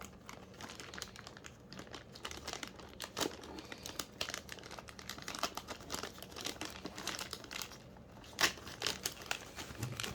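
Packaging of a Pierre Cardin women's analog watch box crinkles and rustles up close as it is unboxed, with irregular bursts of crumpling and tearing and brief pauses between.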